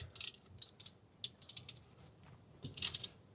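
A wrench ratchets while tightening a T-chock between camper wheels, with short bursts of quick clicking separated by pauses, close and fairly quiet.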